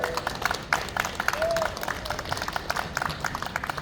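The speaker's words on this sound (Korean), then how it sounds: "박수 한번 주세요" A crowd at an outdoor rally send-off for a car parade in Busan claps in a burst of uneven, sparse clapping, mixed with crowd noise and some talking.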